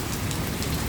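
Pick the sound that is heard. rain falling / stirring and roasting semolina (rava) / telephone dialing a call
rain falling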